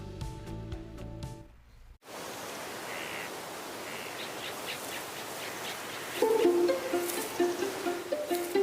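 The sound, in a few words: native forest bird calls of Guam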